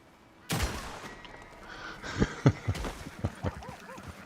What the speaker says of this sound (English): I love the sound of that volcanic pistol.